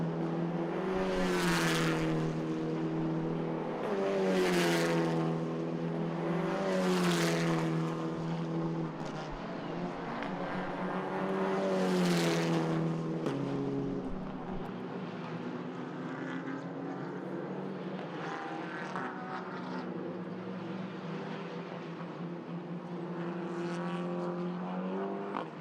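Race cars in an Irish Championship circuit race scream past one after another, engines rising and falling in pitch as each car nears and recedes, then a steadier drone continues at a distance.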